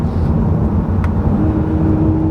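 Audi RS3 engine while driving, a loud, steady low drone heard from inside the car, holding an even pitch with no talk over it.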